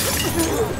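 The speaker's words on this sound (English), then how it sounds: "I'll break this glass." Glass shatters in The Last of Us Part 2, a single loud, brief crash with a bright scattering burst and no voices over it.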